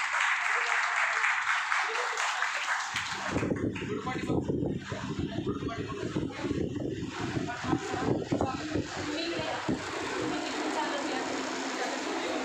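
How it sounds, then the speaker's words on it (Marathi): Audience applause at an anniversary event, a broad steady wash of clapping that swells in after about three seconds and continues loudly to the end, with voices mixed in. "आपण जोरदार टाळ्या वाजवाय"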